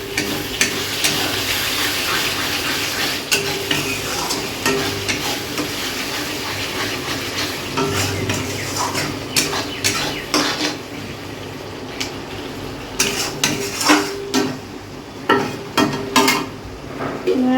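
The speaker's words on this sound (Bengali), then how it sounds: "এদিকে মশলা কষছি" Masala paste fries and sizzles in a pan on a home kitchen stove while a spoon scrapes and stirs it, giving a continuous close crackle broken by repeated metallic clinks against the pan.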